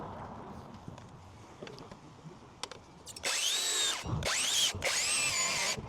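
A power saw cuts through timber up on a roof. It whines loudly in two sustained passes with a brief break between them, after quieter knocks and handling noises.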